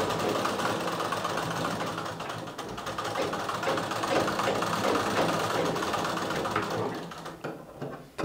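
A sewing machine runs steadily while topstitching a blouse, a continuous close rattling whir that holds for several seconds before easing off at the end, with no voices.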